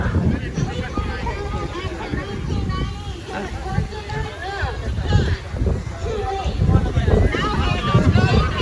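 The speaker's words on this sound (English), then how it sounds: "The wind's blowing." Wind blowing outdoors at a street protest, a steady rumbling buffet across the microphone that grows stronger toward the end, heard under a crowd's chatter and voices nearby.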